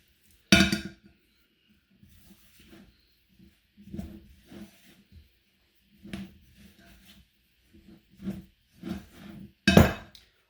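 Pizza dough ingredients and oil being mixed in a batter bowl, heard as scattered clinks and scraping knocks in short bursts separated by quiet gaps, loudest near the start and end.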